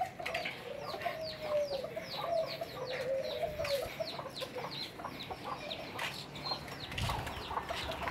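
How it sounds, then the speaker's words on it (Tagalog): Chicken chicks peep in a steady run of short, high chirps close by, with adult hens clucking low underneath and brief wing flutters in an outdoor yard setting; no talk is heard. "Yung mga sisiyo ng manok niya"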